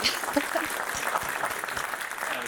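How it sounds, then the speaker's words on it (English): Applause at a Brentwood State of the City event honoring police officers, soft crowd clapping at a distance with murmured voices mixed in. "one more round of applause"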